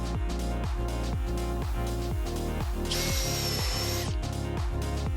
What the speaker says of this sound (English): And more countersinking.